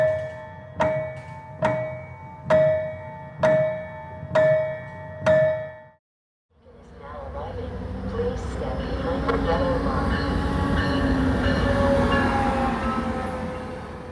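A piano prepared with felt, bolts and tinfoil imitates a train: six rhythmic struck chords like wheel clacks, a brief pause, then a long rumbling, metallic tremolo in the low end that swells and fades.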